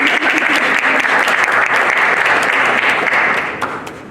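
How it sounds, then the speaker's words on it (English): An indoor town hall audience claps loudly and steadily, a dense wash of applause that holds and then fades toward the end. "Come on, give him a round of applause."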